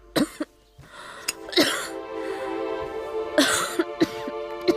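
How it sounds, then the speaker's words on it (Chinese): A woman coughs hard in a series of harsh, separated bursts, some clustered in pairs, with a rough throat-clearing rasp between them, close and fairly loud in a quiet room. "姐姐咳嗽得如此厉害"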